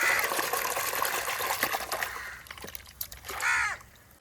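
Fish are rinsed and rubbed in water, with splashing and trickling up close, a pause, then a louder pouring gush near the end.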